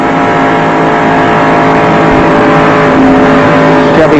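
Ford and Chevrolet stock cars race at the 1994 Daytona 500 with a loud, continuous engine roar that stays steady throughout and swells slightly near the end, with no talk heard.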